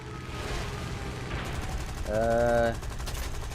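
Rapid gunfire aimed at the player in the video game Elder Scrolls Online, a fast rattling burst of shots set against a steady game soundscape with a brief sustained tonal whine in the middle.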